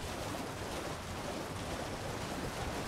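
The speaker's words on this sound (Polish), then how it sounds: "Co ten wodospad skrywa?" Rushing waterfall in the Elden Ring game world, a steady broadband roar of falling water that stays loud and even throughout with no voices.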